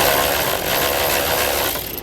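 A ratchet with an 8mm socket clicks as it works a nut loose on a 2019 Subaru, giving a short, close burst of rapid mechanical clicking.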